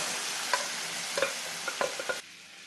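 Curry leaves and chillies crackle in hot oil for a tempering, with a continuous sizzle and several distinct clinks of a spoon stirring the pan; the frying noise cuts off abruptly near the end, leaving a quieter hiss.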